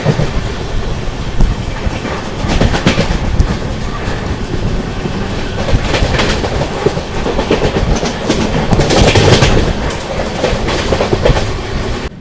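Amrit Bharat Express on the Patna–New Delhi route gathering speed, a loud, close rumble of wheels clattering over rail joints with rushing wind, steady and unbroken, no voices.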